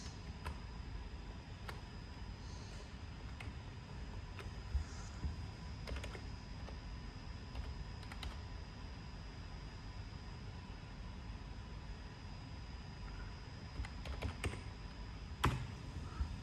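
Faint keystrokes and a few firmer key presses tap irregularly on a computer keyboard while data is entered into a form, set against a steady low hum of room noise.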